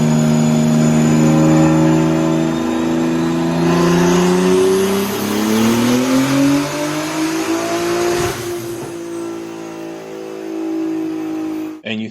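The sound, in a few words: Toyota A90 Supra engine during dyno pull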